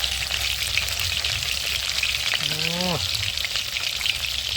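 Fish, freshly caught kalibaus from a river, fry in hot oil with a steady, bright sizzle and crackle, close and continuous, while a voice briefly speaks partway through.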